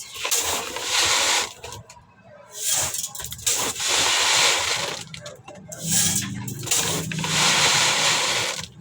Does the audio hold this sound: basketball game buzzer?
no